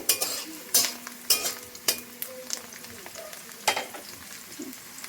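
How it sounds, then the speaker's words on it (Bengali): Garlic frying lightly in a pan, a soft sizzle punctuated by several sharp utensil clicks and scrapes against the metal at irregular intervals, close and without speech. "রসুনগুলোকে হালকা করে ভেজে নেব।"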